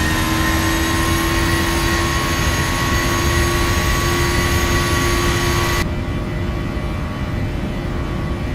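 An airliner's jet engines roar steadily at takeoff thrust in a flight simulator, a loud sustained broadband rush with high whining tones, continuous and close throughout, without talk.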